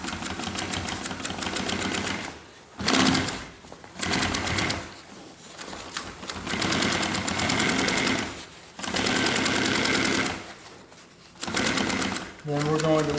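A sewing machine stitches a handle piece onto homemade backpack fabric, running in loud, close, buzzing bursts of a few seconds each with short stops between runs.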